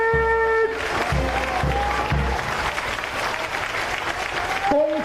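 Audience applause fills the hall at the launch ceremony for Taiwan's domestically built navy submarine, a sustained dense clapping of a large crowd, with an announcer's amplified voice heard over it at the start and end.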